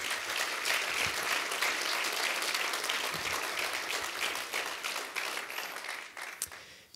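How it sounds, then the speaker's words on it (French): Audience at a student association's campus launch event applauds in tribute to a person, a full, even burst of many hands clapping that carries on for several seconds and thins out near the end. "j'aimerais qu'on lui rende un petit hommage, peut-être quelques applaudissements"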